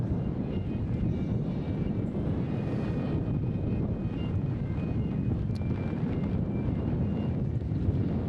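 Strong wind roars and buffets without letup at a collegiate road cycling criterium in Albuquerque, New Mexico, a loud dense rumble that fills the whole stretch.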